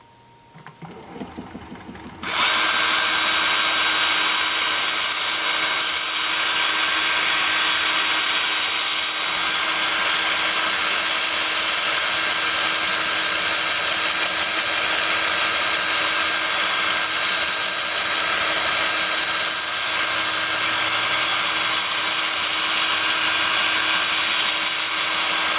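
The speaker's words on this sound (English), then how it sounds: "I'm going to start sanding with my 2-inch disc at 80 grit" A 2-inch sanding disc at 80 grit grinds against a cherry burl spinning in reverse at 350 on a lathe. A motor whirs steadily first, then a loud, constant abrasive hiss fills the rest.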